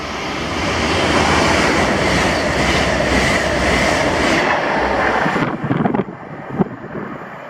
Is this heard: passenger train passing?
yes